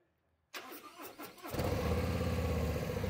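A 2024 Harley-Davidson Street Glide CVO motorcycle fires up through mild aftermarket pipes, with a short starter crank followed by a steady, full, rumbling idle close by.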